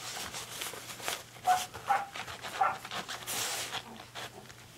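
A Pembroke Welsh Corgi gives a few short barks and yips at a moderate distance, three sharper ones standing out over a low background hum.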